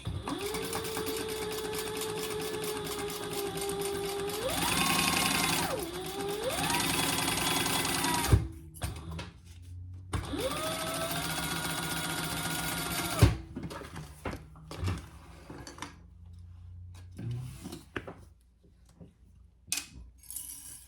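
A sewing machine topstitching a seam on a triple-zip crossbody bag runs in long steady bursts with rising and falling motor pitch, pausing in between, then gives shorter stop-start runs, loud and close with no talking.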